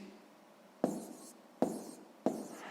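Three separate pen or chalk strokes land one after another as numbers are written out by hand, each a short scratchy contact close by in a quiet room.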